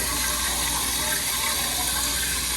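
Water runs steadily from a kitchen sink tap, a constant broadband rush heard alone and close for the whole stretch.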